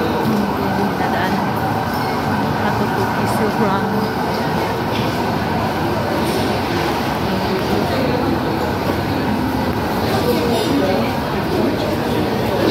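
A Singapore MRT Brown Line train gives a steady, loud rail rumble and hum throughout, with a person talking over it and faint chatter in the background.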